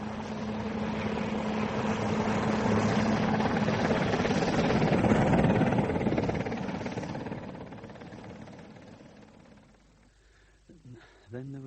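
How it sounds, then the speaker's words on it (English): A relief helicopter arrives in a radio drama, its rotor and engine roar building loud and steady for several seconds before fading away, with voices speaking near the end. "Here's the relief helicopter."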